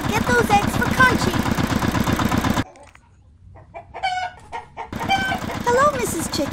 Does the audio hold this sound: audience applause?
no